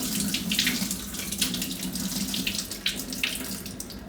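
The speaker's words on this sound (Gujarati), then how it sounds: "પહેલાં આપણે આ સોયાવડી છે એને ધોઈ નાખીશું, નાનું આપણે પાણી કાઢી નાખીશું" Tap water runs steadily while soaked soya chunks are washed, a continuous close splashing flow with uneven bursts as hands move through the chunks and water.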